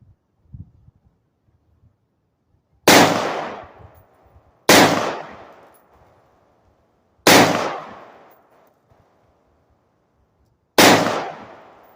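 Four loud, isolated gunshots from outdoor target shooting, each a sharp crack with a ringing decay, spaced a couple of seconds apart over near silence with faint handling noise before the first shot.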